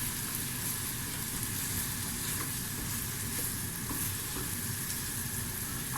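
Butter and a mix of vegetable and olive oil sizzle steadily in a pot, a constant even frying hiss at moderate level with no voices over it.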